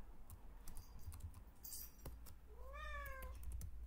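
A cat meows with a rising then falling call near the end, heard close over steady computer keyboard typing and faint room noise.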